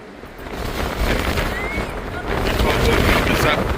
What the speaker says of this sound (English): I can just about hold the phone due to the wind.